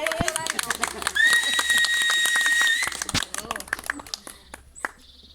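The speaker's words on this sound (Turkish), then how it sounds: "alkışları olsun diyeceğim" Wedding guests applaud during a ceremony, a lively burst of clapping with crowd voices and a sustained whistle-like tone, gradually thinning out toward the end.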